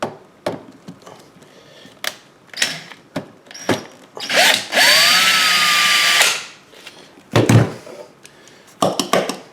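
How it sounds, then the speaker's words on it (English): A cordless screwdriver with a Phillips bit whirs in a loud two-second burst while removing a nut and bolt from a Greenworks electric lawn dethatcher, framed by scattered clicks and handling knocks. "Take your cordless screwdriver with the Phillips bit."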